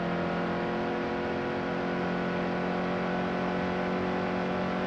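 A race truck engine in NASCAR Heat 2 drones at a steady high pitch, loud and constant, with no change in revs and no talk over it.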